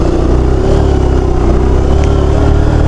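A motorcycle engine strains loudly and steadily up a steep off-road trail, a close, continuous low drone with a rough pulsing note throughout.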